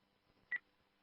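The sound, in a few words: telephone dialing tones over radio during phone call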